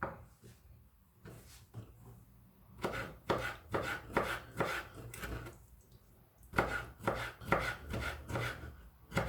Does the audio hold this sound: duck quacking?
no